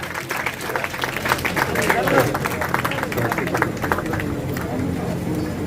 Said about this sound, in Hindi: बहुत जोरदार तालियां बजाई जाएं